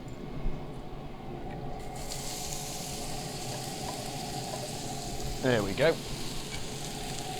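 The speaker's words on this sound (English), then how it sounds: "the first thing I want to do is get the onions frying." Onions sizzle and fry steadily in a pan on a smoker, a close continuous crackling hiss with a brief stir near the end while someone speaks quietly.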